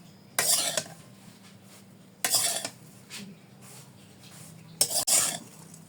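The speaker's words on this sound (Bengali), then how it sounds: "হালকা একটু ভেজে নেব।" Bread slices frying lightly in a kadai for a beef bread pizza, stirred with a utensil: three distinct bursts of scraping and clattering against the pan over a soft, steady sizzle, with no talk.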